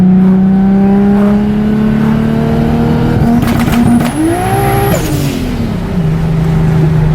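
A tuned Corvette Z06 accelerates hard on a pull, its engine droning loud and close with a rising pitch, a sharp gear change midway, then climbing again, alone without talk.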